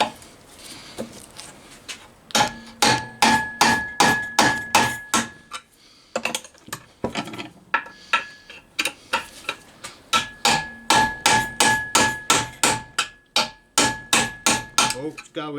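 A chisel-like tool is hammered against a bush on a Rover P6 V8, a steady run of loud, sharp metallic strikes in quick bursts with brief pauses between them.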